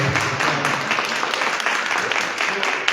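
An audience at a Monday Night Politics evening event claps in a steady, dense round of applause that holds at the same level throughout.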